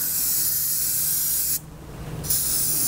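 Gray paint hisses from a sprayer onto a fishing lure in two close, steady bursts separated by a short pause, with no voices.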